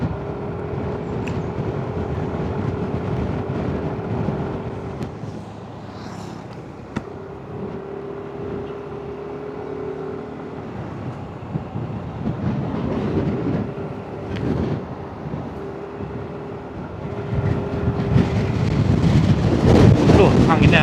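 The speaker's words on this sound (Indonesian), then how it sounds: "anginnya gede" Strong wind roars and buffets the microphone over a steady low rumbling drone, growing louder and gustier toward the end.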